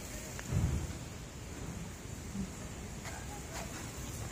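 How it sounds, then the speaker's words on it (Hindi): Steady rain patters under low rumbles of distant thunder, with a louder rumble early on. "बारिश आ रही है"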